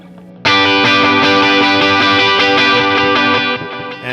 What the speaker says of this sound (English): you're playing the high strings, the higher notes, and it cuts through and sounds a lot bigger